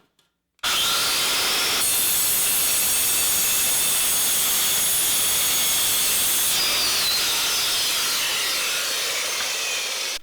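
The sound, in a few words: saw with metal blade cutting thin sheet metal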